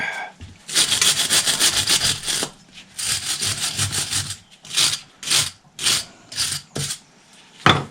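A small brush scrubbed hard against a tractor engine part during sump fitting, a fast scratchy rubbing in long bursts that break into shorter separate strokes, close and fairly loud with no talk.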